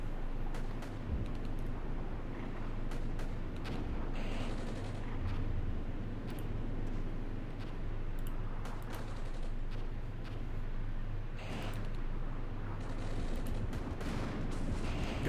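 Sustained gunfire from infantry combat in the Cold War strategy game Armored Brigade, French forces defending against a Soviet advance, with scattered sharp shots and rumbling volleys continuing steadily under a dense battle ambience throughout.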